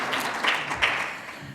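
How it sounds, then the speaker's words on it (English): Brief audience applause at a health policy speaker series, heard as a short, moderately loud burst of scattered clapping from a modest crowd, with no voices. "If you can just join me in giving a round of applause to Dr. Mark McClellan."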